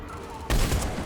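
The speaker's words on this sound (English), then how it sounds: "Nope, bad shot." A gunshot burst from the video game Mass Effect 3 erupts suddenly halfway through, loud and close after a quieter stretch of game ambience, with no talk over it.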